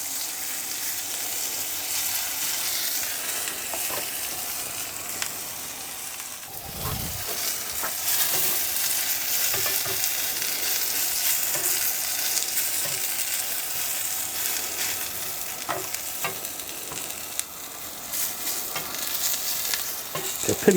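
Steak and mushrooms sizzle on a hot shovel, a steady bright frying hiss with scattered pops and crackles and a brief low thump partway through; no one speaks.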